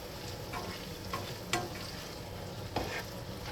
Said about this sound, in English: Add and stir. Add and stir.